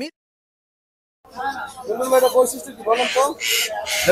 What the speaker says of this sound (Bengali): পাকিস্তানের চন্দনার বাচ্চা।